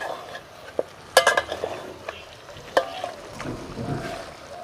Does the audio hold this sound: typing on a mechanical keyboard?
no